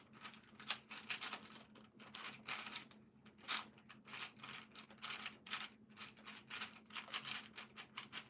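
Fingers type on an HHKB Pro Classic 2 keyboard, a quick, irregular run of close, crisp keystrokes in bursts with brief pauses.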